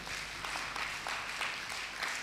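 A church congregation applauds in acclaim of the Lord, with continuous clapping that rises and falls in rhythmic waves, moderately distant, and no clear voices on top.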